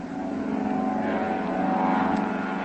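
A propeller seaplane roars steadily as it takes off from the water, its engine drone loud, continuous and close throughout.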